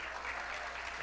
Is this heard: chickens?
no